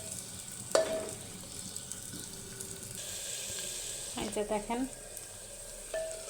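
Chopped onions fry and sizzle in a clay pot while a wooden spatula stirs them, with a cluster of scraping stirs near the middle and a brief clatter near the end, all close and moderately loud under a short spoken line.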